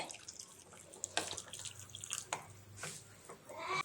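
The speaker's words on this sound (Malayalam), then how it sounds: "വെള്ളം കൂടെ ചേർത്ത് കൊടുക്കുന്നുണ്ട്." Water pours and splashes faintly into a curry pan in a few short bursts, quiet and close, with light clinks between.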